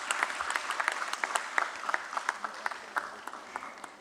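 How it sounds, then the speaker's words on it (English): At a stock exchange listing ceremony, the audience claps for a financial firm, with a brisk run of individual claps standing out as sharp spikes over a moderate crowd of applause that continues steadily. "A big round of applause for IDBI Capital Markets and Securities Limited."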